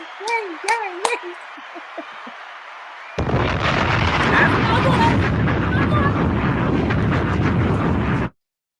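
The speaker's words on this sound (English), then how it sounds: "that sounds like fireworks" Video game explosions from a tank battle with Shermans crackle and pop like fireworks in a dense, sustained burst of rumbling blasts, preceded by a few short sharp pops and chirps.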